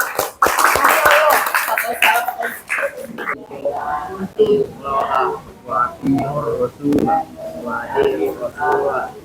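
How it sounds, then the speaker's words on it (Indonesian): A group claps hands in a classroom religious lesson, a brief burst of clapping at the start followed by people speaking. "tepuk tangan untuk kita semua"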